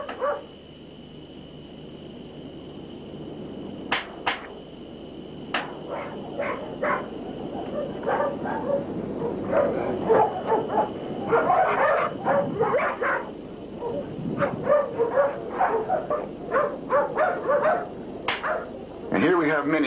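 Several friendly pit bulls bark and yip repeatedly in short bursts, fairly close, with people talking around them throughout.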